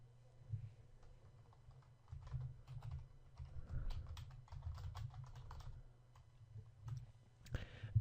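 Computer keyboard keys clack in quick bursts while a folder name is typed, close and moderately loud over a low steady hum.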